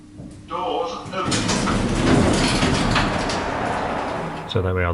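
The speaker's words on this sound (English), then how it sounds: "Doors open." Sticky lift doors at the Dolphin Shopping Centre in Poole slide open with a loud, sustained rumbling rush lasting a few seconds, bracketed by a brief voice at the start and end.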